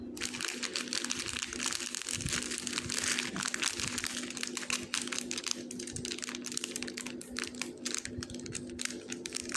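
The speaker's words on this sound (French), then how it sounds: "J'essaie de sortir les sachets sans faire de grosses bêtises" Crinkling and rustling as plastic sachets of diamond painting beads are pulled from their package, irregular crackles and scrapes up close, with quiet handling noises and no clear speech.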